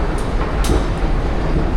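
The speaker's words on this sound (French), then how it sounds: "Hi, we're on the subway." A subway train in New York rolls along with a steady, loud rumble and continuous rail noise, with a couple of brief high hisses, and no voices.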